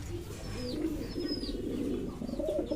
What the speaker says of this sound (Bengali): আর এখানে সাদা লক্কার পেয়ার।